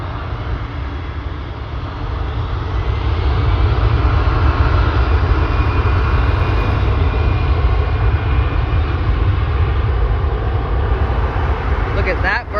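An Airbus A319's jet engines roar as the airliner accelerates down the runway on takeoff, a loud, steady, building whine and rumble that swells after the first seconds and holds.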